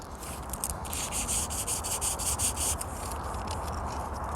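A small hand tool scrapes at a lump on a BMW wheel during a DIY refurbishment, making close, loud, rapid rasping strokes in a continuous sanding-like rhythm.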